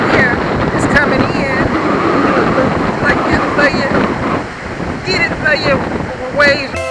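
Ocean surf rolling in at Rattlesnake Beach in St. Augustine, Florida, a steady loud wash of waves under heavy wind buffeting on the microphone, with people talking close by throughout.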